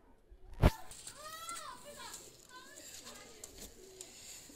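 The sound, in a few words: Jansera teddy pigeons cooing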